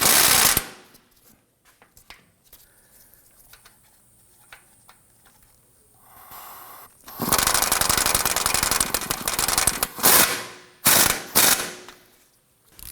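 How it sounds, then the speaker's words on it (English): Hand ratchet snugging down the rear bolt of a front lower control arm on a 2003-2014 Volvo XC90, rapid clicking bursts from the pawl, close and loud, separated by quiet pauses and a few faint taps. "Let's snug down the rear control arm bolt."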